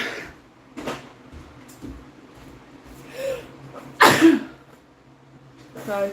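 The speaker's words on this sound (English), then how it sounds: "I'm going to sneeze." A single loud sneeze from a person indoors bursts out near the middle, sharp and close, with a sniff or breathy noise following and quiet room sound around it.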